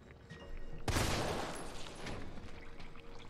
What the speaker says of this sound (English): Getting some lucky shots in there, yo.